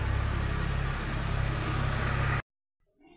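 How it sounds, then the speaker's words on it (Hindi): A car pulls up close by with a loud, steady engine rumble and road noise that cuts off abruptly, leaving near silence with a few faint sounds. "गाड़ी आ गया"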